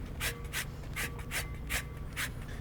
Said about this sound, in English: We're gonna go ahead and hit it with a little lemon zest.